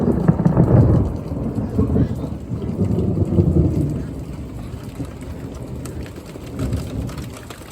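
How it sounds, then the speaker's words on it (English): Heavy rain pours steadily while low thunder rumbles and rolls through, loud and close, with lightning striking nearby and no speech. "That lightning is so stinking close."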